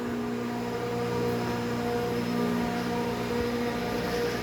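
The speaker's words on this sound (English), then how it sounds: "They're using a rotary screw type compressor out here." A rotary screw air compressor runs outdoors at a hammer mill setup, giving a steady, dense mechanical drone with a constant hum and no pauses.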